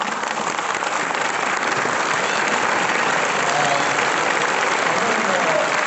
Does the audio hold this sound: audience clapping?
yes